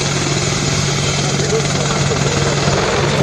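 An Alenia C-27J Spartan military transport of the Italian Air Force banks through a tight turn at the 2013 Radom air show, its engines a loud, constant droning roar with a voice speaking over it.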